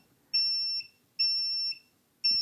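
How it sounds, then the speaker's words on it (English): A multimeter in continuity mode beeps as probes touch capacitors on a PlayStation 5 board: three steady, loud, high-pitched tones of about half a second each, evenly spaced, with no talking. "continuity mode is obviously the mode when you touch your probes, it beeps like so"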